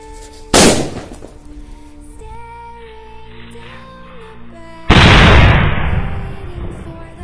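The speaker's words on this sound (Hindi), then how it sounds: "तो टाइगर बम काफी धमाकेदार था।" Two loud Tiger bomb firecracker blasts set off inside a big hole, several seconds apart, each a sharp bang trailing into a crackling, fading roar over a faint steady background tone.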